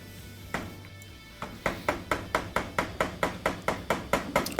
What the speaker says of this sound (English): keep trying to scrape off the old front bearing